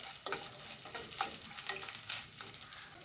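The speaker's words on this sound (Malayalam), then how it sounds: "ആദ്യം നാളികേരക്കൊത്ത് ഇട്ട് കൊടുക്കും ഒന്നിളക്കി കൊടുക്കുക" Coconut pieces frying in a pan for Onam chana dal payasam, crackling sizzle with repeated scraping stirs in an uneven rhythm, close and fairly soft, no talking.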